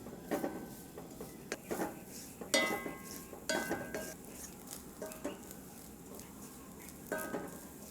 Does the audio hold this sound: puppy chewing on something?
no